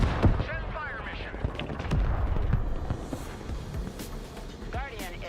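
Rocket artillery from an MLRS launcher fires in the Broken Arrow war game, a string of booming launches and blasts with rumbling tails, loud and near amid battle noise, with voices speaking over it.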